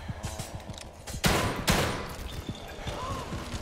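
Shotgun blasts in the horror game The Evil Within 2, two loud close booming shots in quick succession amid rapid background gunfire and game noise, with little talk.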